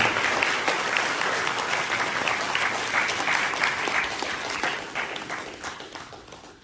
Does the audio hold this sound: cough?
no